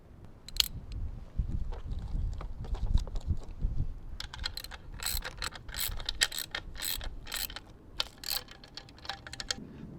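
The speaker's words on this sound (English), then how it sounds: "this is 10mm bolt or screw. And then you just tighten it down." A 10mm bolt is tightened by hand tool onto an off-road 7-inch pod light mount, giving close rapid ratcheting clicks in bursts after a stretch of low handling rumble.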